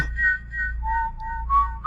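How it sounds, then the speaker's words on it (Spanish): A person whistles a short melodic phrase, clear and close, shifting between high and lower notes over a low steady hum. "se escuchaba el silbido característico de su padre"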